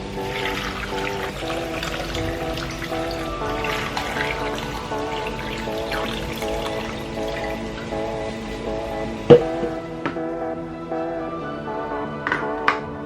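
Water pours steadily into a blender already holding apple, ginger, lemon and frozen pineapple, a continuous close trickle over about thirteen seconds, with a few sharp knocks near the end.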